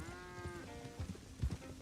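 Florida cracker cows in a video game, a couple of short lowing moos, the first with a clear tonal bellow, followed by soft muffled thumps.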